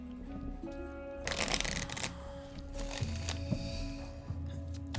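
Playing cards are shuffled at a table, a quick fluttering riffle followed by softer shuffling and card handling, close and fairly faint.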